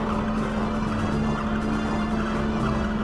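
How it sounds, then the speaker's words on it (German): A vehicle engine from the Xenogears video game drones as a loud, constant mechanical hum with a strong steady tone, continuous and unbroken with no talk over it. "der Sound von diesem Gerät ist lauter wie die Musik"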